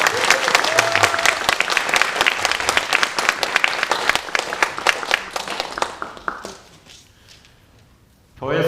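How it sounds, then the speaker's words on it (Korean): A church congregation at a revival service claps loudly to welcome the pastor, dense applause that thins and fades after about six seconds before a voice briefly starts up again. "우리 목사님 나오실 때 환영하는 마음으로 큰 박수로 환영하겠습니다."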